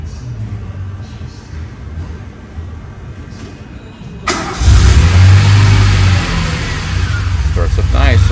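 A late-VIN DeLorean engine cold-starts partway through, the quiet buildup giving way to a sudden loud crank and catch, then a steady idle with slight revving, close by, while a person talks over it.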